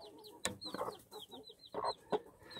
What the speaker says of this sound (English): Throw them in there and let the chickens go crazy over it.